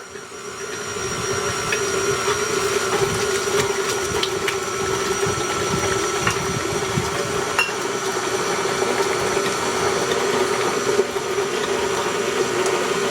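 An electric mixer beats a strawberry cheesecake ice cream mixture of milk and heavy cream, giving a steady, moderately loud motor whir that holds constant for the whole stretch after a quieter start.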